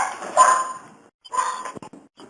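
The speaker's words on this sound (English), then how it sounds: "That'll be Will's dog" A dog barks indoors in two short bursts, the second with a whimpering edge, close to the microphone.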